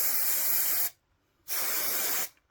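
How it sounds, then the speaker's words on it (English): Spray adhesive hisses out of a can to glue foam mask parts together: two loud, close bursts of about a second each, split by a short silence. "spray gluing this now to attach"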